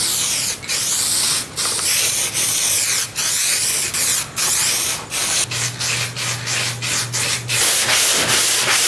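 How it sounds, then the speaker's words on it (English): Sandpaper rubbing over urethane primer on car body panels, a steady loud scratchy back-and-forth stroke with brief pauses between passes and a low hum joining near the end. "Eastwood says that you have to sand it with three different grits of sandpaper. First, you sand it with 220, then 320, then 400."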